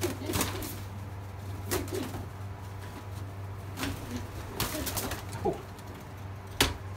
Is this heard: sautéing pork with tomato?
no